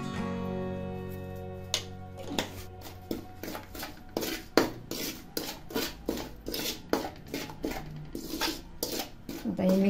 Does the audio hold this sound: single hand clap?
no